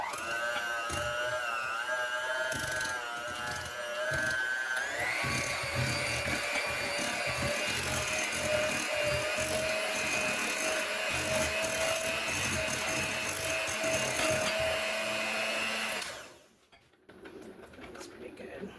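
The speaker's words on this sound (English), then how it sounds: "I'm going to go ahead and just rub up the hand mixer and mix these 2 ingredients together" Electric hand mixer beating butter and peanut butter together in a bowl, a loud steady whirring drone with a shift in pitch partway through, then cutting off near the end, while a person talks over it.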